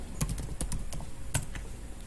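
A handful of light, quick clicks from typing on a computer keyboard, irregular keystrokes tapped close by over a quiet background.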